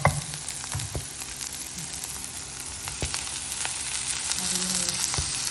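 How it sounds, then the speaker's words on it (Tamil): Tomatoes frying in a pan with bitter gourd and onions for a thokku give a steady, close sizzle with scattered crackles and pops throughout and no talking. "தக்காளி நல்லா வதங்கட்டும்."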